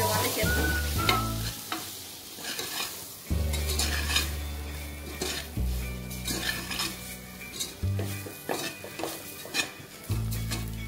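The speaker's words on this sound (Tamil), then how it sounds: "மிளகாய்த்தூள், மஞ்சள் தூள், சீரகத்தூள், கரம் மசாலா, உப்பு, இதெல்லாம் போட்டு கொஞ்சம் வதக்கிறோம்" Chilli powder, turmeric, cumin, garam masala and salt sautéing in a pan for goat intestine gravy: a loud steady sizzle under repeated metal spoon scrapes and clinks against the pan, with no voices.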